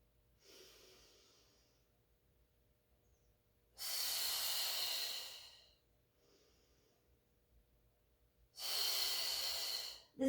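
Two long audible exhales through the mouth during a Pilates mat exercise, each a breathy hiss lasting about two seconds, close and clear, separated by fainter breaths and quiet room tone.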